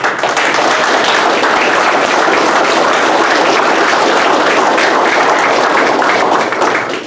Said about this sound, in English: why don't you lead us in a round of applause to say thanks to your instructors